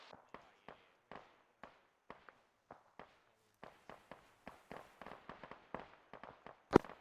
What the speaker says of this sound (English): We're returning fire now.